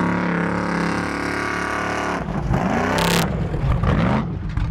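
A 720hp Ford Bronco race truck drifting, its engine revving in loud, rising and falling tones that give way to a harsh, gritty roar with a short burst of sharp hiss partway through.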